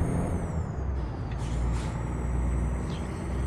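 Truck air brakes in Euro Truck Simulator 2 release a steady hiss over the low rumble of an idling engine, heard alone throughout.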